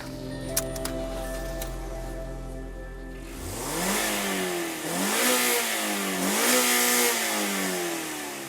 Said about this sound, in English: 2-litre MZR engine, specially made for this car.